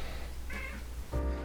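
A house cat lets out a couple of short meows, close by and fairly soft, over a low steady background hum, the second call brighter and slightly louder than the first.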